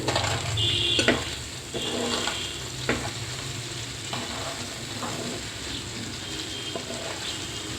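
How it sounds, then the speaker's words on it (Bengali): Small fish (gura mach) frying lightly in a pan, a steady close sizzle throughout with a few soft clicks and scrapes as pieces are gently turned. "আমি হালকা করে ভেজে নিচ্ছি"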